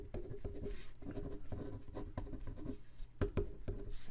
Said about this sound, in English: So I'm going to write down the premium